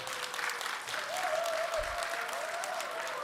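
A church congregation applauds at a worship service, a soft, steady patter of clapping spread through the room for a few seconds, fairly faint and distant.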